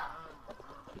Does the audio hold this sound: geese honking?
yes